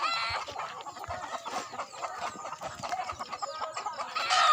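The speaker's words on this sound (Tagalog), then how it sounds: "Daming manok dito guys." Many chickens cluck and chatter at once, a busy, fairly soft flock sound that continues steadily with a few louder calls near the end.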